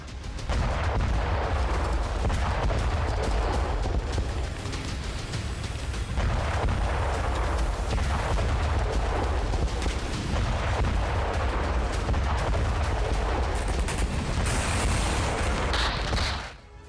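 Military boats explode in dense, continuous rumbling blasts and crackling bursts, loud and sustained without pause, like heavy explosions and gunfire going off together.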